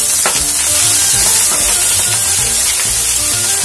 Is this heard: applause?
no